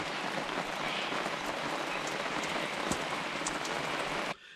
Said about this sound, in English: You know how I was saying it was going to rain? It did.